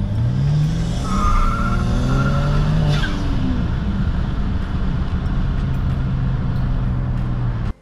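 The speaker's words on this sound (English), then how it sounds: "So let's go for a test drive now." A BMW fitted with the N54 engine on a test drive, heard as a steady engine drone with road and tire noise throughout, some rising engine tones, and the sound cutting off at the end.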